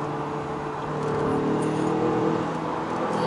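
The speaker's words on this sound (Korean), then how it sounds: "엔진 사운드" A Renault Samsung SM6 car engine hums steadily and builds slightly while accelerating in sport mode, a continuous smooth drone heard from inside the cabin, shaped through the speakers.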